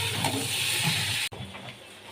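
Fish fries in a wok with a steady, close hissing sizzle that cuts off abruptly partway through, then a quieter background hiss continues; no one speaks.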